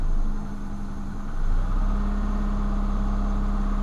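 An Eagle Premier car with a low-compression engine runs just after a cold start following two months of sitting, with the throttle held open. It gives a steady, fairly loud rumbling idle with a slight surge near the start.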